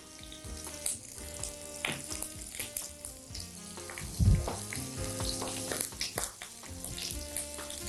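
Calamari rings fry in a pan toward golden, giving a constant crackling sizzle. Irregular clinks and knocks of utensils and a brief louder low thump interrupt it midway, and no one speaks.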